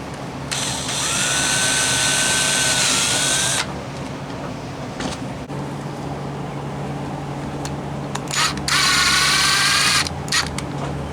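A power drill drives screws into a shade house frame in two loud whirring bursts separated by quieter handling and background noise.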